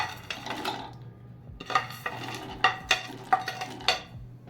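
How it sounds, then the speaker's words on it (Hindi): Dry fruits are roasted in lightly warmed ghee for fenugreek laddu. A spoon scrapes and clinks against the pan in repeated strokes over a faint sizzle, close and clear, with no talking. "अभी जो घी है वो हल्का सा गर्म हो गया है, तो मैं ये सारे ड्राई फ्रूट्स एक साथ ही इनको ना भून लेती हूँ"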